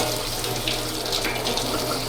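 Water pours steadily over wax-waterproofed leather goods, a continuous close splashing rush that holds without a break and with no talk.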